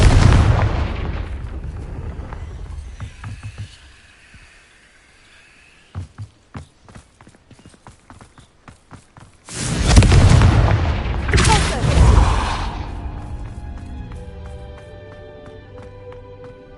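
Explosive Confringo spell cast in Hogwarts Legacy, heard as loud booming bursts around the middle after quieter scattered footsteps and pops, followed by a fading rumble and ringing tones.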